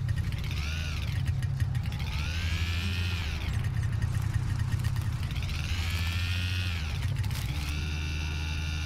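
A snowmobile engine in the video game Kona idling and sputtering roughly during loading, a loud steady rumble with rising and falling whines repeating over the clip, no talking.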